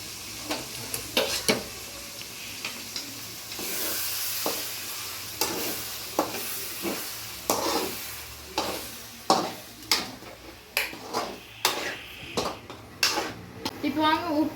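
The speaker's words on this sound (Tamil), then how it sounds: "நல்லா வதங்குற வரைக்கும் கிண்டி விட்டுக்கலாம்." Ground masala paste for paneer butter masala frying in a pan and stirred repeatedly, with a spoon scraping the pan in a steady rhythm of strokes over a low sizzle, close by and moderately loud.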